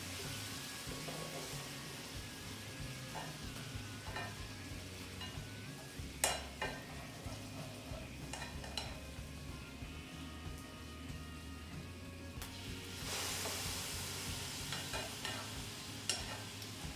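Quiet sizzle of tofu frying in a pan while being stirred to coat it in spicy sticky sauce, with soft scraping and clinks of the utensil throughout.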